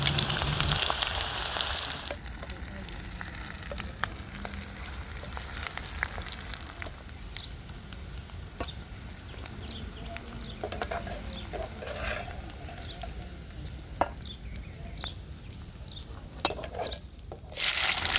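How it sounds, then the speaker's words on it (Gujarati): Soft, steady sizzling of onions frying in oil, with occasional clinks and scrapes of a utensil against the pan. "તો હવે કાંદાને પણ એવી જ રીતે તળી લઈએ"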